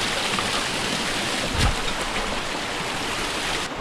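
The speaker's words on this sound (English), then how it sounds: "Here's another waterfall to go down." Steady broadband rush of a waterfall in New Zealand wilderness, loud and close, a continuous roar of tumbling water with a brief low thump partway through and no voices.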